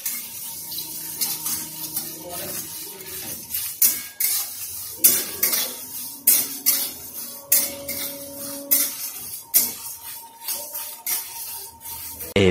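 White and black mustard seeds and spices are dry-roasted in a pan, with steady close scraping and stirring strokes and soft rattling of the seeds against the metal.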